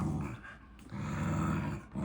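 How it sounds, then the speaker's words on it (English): A corgi growls steadily up close while tugging at a tire at play, the low rumble running through most of the moment with a brief break, no talk over it. "So I'm sorry about the growling."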